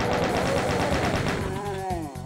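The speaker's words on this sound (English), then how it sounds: "Chain gun time." Chaingun fire in Doom 2 on a subway level: a rapid, even stream of shots that stays loud and steady for about two seconds before trailing off.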